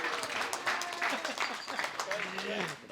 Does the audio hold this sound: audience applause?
yes